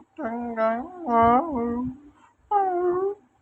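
A person imitates a dog's whimper with a run of high, wavering, nasal whines, three voiced bursts with a short pause before the last, close and clear.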